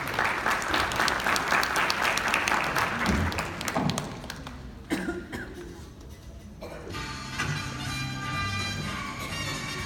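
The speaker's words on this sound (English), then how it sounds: "Let's give a round of applause for Raul and a beautiful, fun game." A game-show studio audience applauds loudly for a contestant, dense clapping that thins out midway, then continues at a lower level with a lighter patter and some background chatter.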